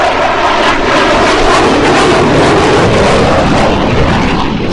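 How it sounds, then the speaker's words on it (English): An F-22 Raptor fighter jet flies an air show demonstration, its loud, steady jet roar filling the whole stretch without a break and with no voices over it. "fly in a demonstration so they get a quick glimpse of some of the capability that the U.S. Air Force has in the latest fighter, the F-22 Raptor"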